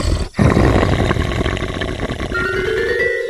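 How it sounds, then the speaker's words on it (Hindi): A loud, deep growl rumbles continuously, like a big cat, with a brief break near the start. It then rolls on with a steady rough texture as a sound effect in a horror story, with no speech over it. "तभी अचानक से किसी के गुर्राने की आवाज आती है।"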